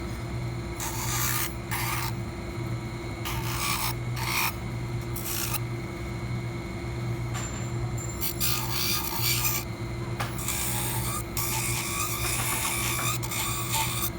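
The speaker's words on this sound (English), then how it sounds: "I just want to cut away or trim away just the sharpness of the ledge here all the way around" A denture edge is trimmed and roughened during a reline, with bursts of high, gritty grinding and rasping from a rotary tool that start and stop repeatedly over a constant motor hum.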